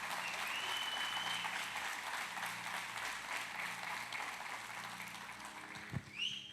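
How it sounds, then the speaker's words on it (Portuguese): Applause from a church youth conference audience fills the room as a steady wash of clapping that slowly thins toward the end, with a brief bump near the close. "Uma salva de palmas para a Nadine nesse instante"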